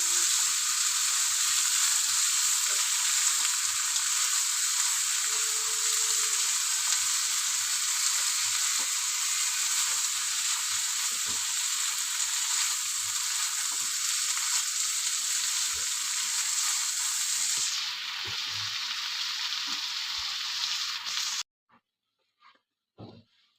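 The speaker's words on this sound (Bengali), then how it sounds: "সয়াবিনটা দিয়ে আমি আবার আরও কষিয়ে নেব" Soybean chunks with spices and nearly boiled potatoes sizzle and fry steadily in a pan, a loud continuous hiss with occasional light stirring taps, ending suddenly into near silence.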